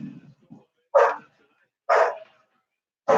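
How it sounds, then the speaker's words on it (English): Dogs bark outside in short, sharp single barks, about three evenly spaced over a few seconds, fairly close and loud, with a faint brief voice or whimper at the start. "I don't know what my dogs are barking at."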